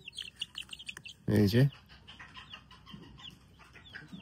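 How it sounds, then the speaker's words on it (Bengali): A pair of newly bought chicken chicks kept in a box give faint, scattered high chirps throughout, with a person briefly speaking close by partway through. "এক পেয়ার মুরগির বাচ্চা আনছি"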